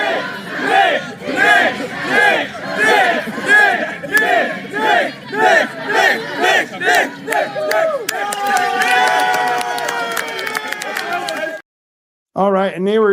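A large rally crowd chants in loud rhythmic unison, each shout rising and falling in a steady beat, then breaks into a sustained roar of cheering and whistles before cutting off abruptly.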